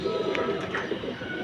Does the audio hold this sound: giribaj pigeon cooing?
yes